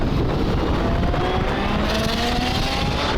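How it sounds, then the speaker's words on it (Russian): A BMW E21 car accelerates hard, its engine note climbing in pitch through a loud, close, continuous roar with rising whine and heavy road and wind noise. "Беха едет очень быстро и уверенно"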